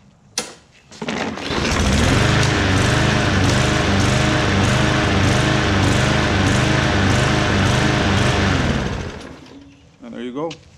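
A gas lawn mower engine catches in cold weather after sitting about an hour, then runs loud and steady with a pulsing, rhythmic drone for several seconds before cutting off, with brief voices at the end.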